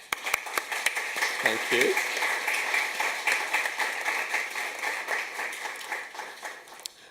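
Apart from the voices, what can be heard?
audience applause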